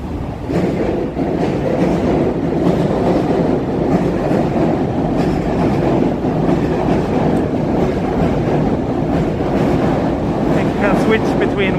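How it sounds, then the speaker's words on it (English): Small red train passing in Tokyo, heard as a loud continuous rumble with rail clatter and city noise that carries steadily throughout, with a voice talking over it. "Look at that cute red little train over there."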